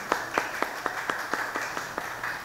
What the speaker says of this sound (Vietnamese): Xin một tràng pháo tay thật lớn cho thầy.